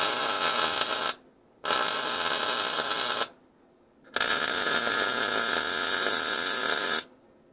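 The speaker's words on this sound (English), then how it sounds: "So now I have to grind these smooth" An angle grinder smooths a metal plate on a car's core support, sounding as three loud, harsh, high-pitched bursts of about one, two and three seconds separated by short pauses.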